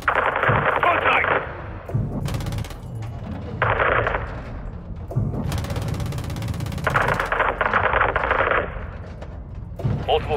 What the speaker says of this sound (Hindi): ये गोलियां जब चल रही तो ऐसा नहीं लग रहा कि पटाखे फट रहे हैं